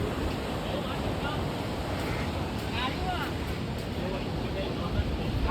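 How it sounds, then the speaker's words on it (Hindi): Ocean waves at the sea in Goa, near Panjim, wash in a steady, broad surf roar with wind buffeting the microphone and crowd ambience in the background. "और यार ये समुद्र कितना बड़ा है"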